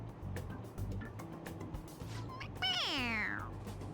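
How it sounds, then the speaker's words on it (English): A stuffed toy cat from Persona 5 Royal lets out a single drawn-out meow when pressed, clear and fairly close over a low game-music background. "It meows when you press on its head."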